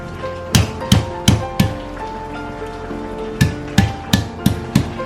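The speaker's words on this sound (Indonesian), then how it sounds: "jangan lupa kita geprek serai." Lemongrass stalks are smashed for a coconut-milk cassava-leaf dish: sharp, close thuds land in two quick bursts of four or five blows each, separated by a short pause.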